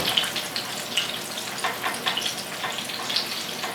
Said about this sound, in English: Flip these over. Give them a little more time. But they're starting to sizzle.